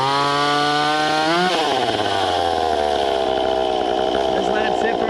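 A chainsaw engine on half choke catches and revs, its pitch sliding upward before dropping into a loud, steady idle, heard up close.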